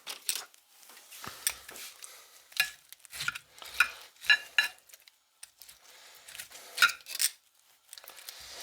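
A knife slicing through ham on a cutting board for ham and bean soup gives repeated short scraping cuts in an irregular rhythm, close and moderately loud, with brief gaps between strokes and no talking.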